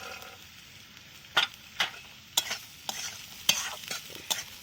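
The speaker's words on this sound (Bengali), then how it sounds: "এইবারে আমি কড়াইশুটিগুলো দিয়ে দিলাম" Green peas with chopped onion stir-fry in a wok, with a spatula scraping through them about seven times in irregular strokes over a soft, steady sizzle. The sound is close, with no talking.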